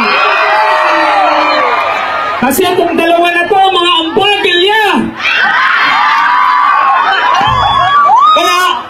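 A crowd shouts, whoops and cheers at a rap battle in Bayambang, Pangasinan, loud bursts of yelling rising and falling around an amplified voice talking over the noise.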